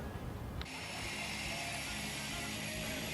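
A propeller airplane engine at a skydiving drop zone kicks in after a brief quiet moment, then holds a loud, steady droning whine with a high tonal edge.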